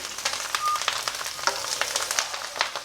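Stuffed brinjals fry in a little oil in a pan, making a steady close sizzle. A spatula stirs and turns them with soft scraping taps, and no one talks.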